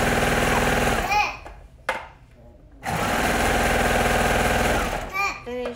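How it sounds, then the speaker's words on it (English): A sewing machine stitches a shirt seam, running in a loud, rapid, continuous buzz that stops briefly, then starts again. A voice talks partway through. "Continue sewing."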